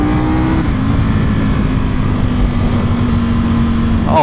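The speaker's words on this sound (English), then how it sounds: "Oh, how I've missed riding my Panigale V4R." Ducati Panigale V4R motorcycle engine while riding, a loud, close, steady drone with a sustained tone that shifts slightly in pitch as the bike rolls on, mixed with rushing wind.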